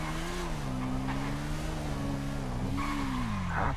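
Motorcycle ridden in the video game GTA 5: a steady, droning engine hum with slight pitch wobbles holds throughout, close and continuous, with no speech.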